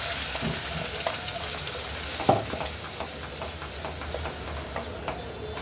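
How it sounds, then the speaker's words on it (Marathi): A ground tomato mixture hits hot tempering in a pan for tomato saar, giving a steady close sizzle and steamy hiss with occasional sharper spits, heard alone without speech. "आता आपण त्यात हे वाटलेलं मिश्रण घालूया"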